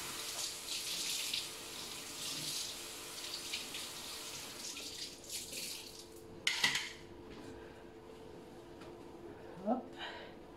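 Tap water runs steadily into a sink while dishes are being rinsed, a soft continuous hiss with a few brief clinks and splashes near the end, close by and fairly quiet.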